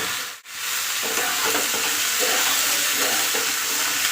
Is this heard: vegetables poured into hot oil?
yes